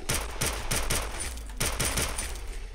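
Gunfire in the round-based survival game Sker Ritual: a rapid burst of loud, close shots, then a second volley after a brief pause, with a sharp crack on each shot.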